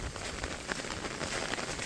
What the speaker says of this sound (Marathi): हा एवढा असा पाऊस पडतो आहे